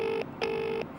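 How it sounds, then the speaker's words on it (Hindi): A telephone ringback tone repeats in steady pulses during an outgoing call, each tone held for a moment before a short gap. It sounds close and clear, with no talking. "रिंग तो जा रही है"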